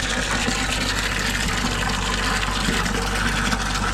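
Water pours steadily for farm animals to drink, a continuous gushing, filling rush that holds at an even level for about four seconds with no voices.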